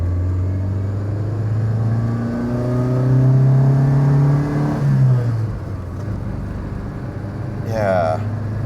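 A car with K-Jetronic fuel injection pulls away in first gear, its engine note climbing steadily as it accelerates, then easing off as revs drop, heard from inside the cabin.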